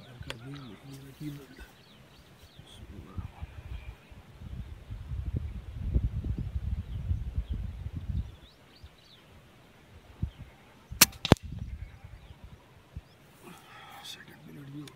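An Artemis PCP air rifle (P15 or M16) fires outdoors in a natural spot, giving one short, sharp crack against a quiet background with low voices and faint bird sounds around it.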